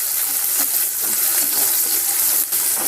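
Potatoes, onions, green chilli and curry leaves for poha fry steadily in a pan, a loud, continuous close-up sizzle with faint stirring.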